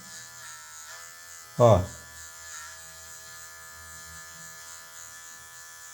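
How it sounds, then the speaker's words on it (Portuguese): An electric hair clipper trims with just the blade tip during a haircut, giving a steady, faint, close buzz beneath a speaking voice, with one brief louder knock near the start. "somente com a ponta da máquina vamos tirar essa leve marcação aqui"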